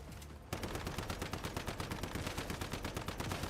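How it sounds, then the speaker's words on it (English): Sustained rapid automatic gunfire from the video game Once Human, starting abruptly after a brief pause and continuing as a dense, loud, evenly spaced burst of shots with no talk. "It's funny how long you can shoot with this before you truly run out of bullets"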